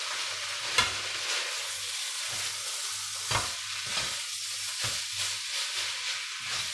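Indonesian nasi goreng with prawns being stirred in a hot pan, a faint continuous sizzle broken by periodic scraping strokes of the utensil, with no voices.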